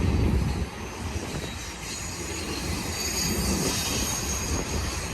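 A freight train of empty double-stack well wagons rolls through Cajon Pass, a loud continuous rumble of wheels on rail with faint high squeal, no voices over it.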